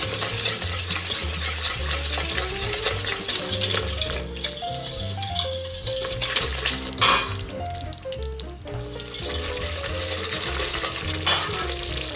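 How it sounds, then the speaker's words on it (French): Melokhia powder cooking in olive oil in a pot for a Tunisian melokhia, with loud, close bubbling and sizzling broken up by stirring and scraping, and a brief louder splash partway through. "on va faire cuire notre poudre de melohia avec l'huile d'olive, on va la faire bouillir un petit peu"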